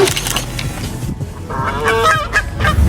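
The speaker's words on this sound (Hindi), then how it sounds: "आप यहाँ देख सकते हैं कि कैसे ये पंछी गाय के पूरे झुंड को परेशान करने में लगे हुए हैं।" Birds harassing a herd of cows give loud, honking, goose-like calls in several close bursts over a rough outdoor background.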